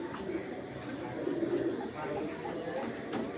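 Pigeons coo close by in a steady, low, rolling murmur that keeps going through the whole stretch, with faint background noise underneath.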